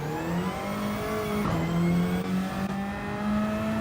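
Engine of an older Toyota Supra in Gran Turismo 7, revving hard with a rising, falling whine through gear changes, loud and close, with no talk over it.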